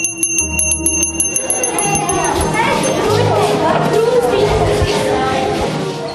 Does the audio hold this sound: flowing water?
no